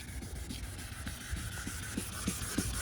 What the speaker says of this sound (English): So just use your 1000 grit sandpaper.